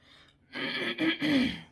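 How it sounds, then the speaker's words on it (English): A single person recovering from a cold clears their throat up close, a short raspy rumble in two or three quick pushes. "you may hear me clearing my throat"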